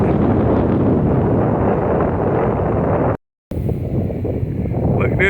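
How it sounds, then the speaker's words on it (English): Heavy wind gusts batter the microphone outdoors with a loud, constant roar, broken by a brief dropout of silence before the buffeting resumes with some faint background sounds. "it's gusting so hard."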